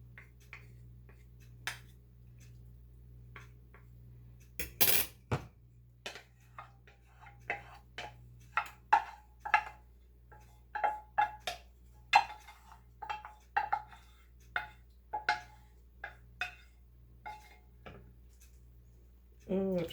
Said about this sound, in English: I'm going to add the bacon back in here after I get this pan scraped out better.